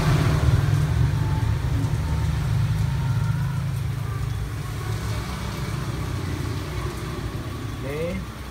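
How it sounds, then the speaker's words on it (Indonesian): A Daihatsu All New Terios engine idles with a steady low hum that stays even and fairly loud throughout, softening slightly toward the end, with some faint background noise over it. "langkah berikutnya kita hidupkan mesinnya ya"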